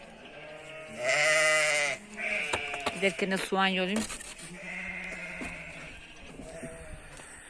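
Loud sheep bleats ring out, one long call followed by a cluster of shorter ones, with someone talking nearby in between.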